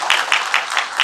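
Spectators at the 30th Mr. Gangwon bodybuilding contest clap in a brisk, even rhythm, five sharp, evenly spaced beats of applause close by.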